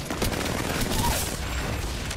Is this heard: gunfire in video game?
yes